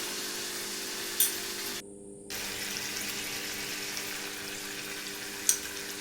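Yogurt goes into a spice paste frying in a pan for a Bengali parwal curry, giving a soft steady sizzle with a brief gap and a couple of faint clicks, close and quiet without talk.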